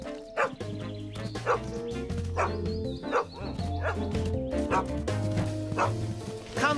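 A cartoon dog in Bob the Builder barks and yips repeatedly in short bursts over bouncy background music.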